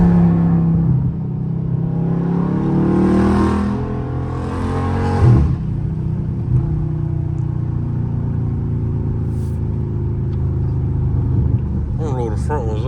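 Dodge Charger Scat Pack engine revving hard and pulling through gears at night, a loud deep rumble that rises, briefly drops between shifts, then drones steadily under occasional talk from inside the car.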